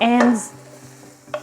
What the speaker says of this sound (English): saute carrots and onion